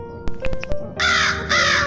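A crow caws twice in long, harsh calls, close and loud, after a few sharp clicks and taps at the start.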